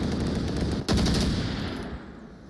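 Gunfire in the Onward VR shooter game during a competitive match, loud, dense bursts of shots filling the clip, with a sharp fresh burst about a third of the way in, then gradually fading, with no talk.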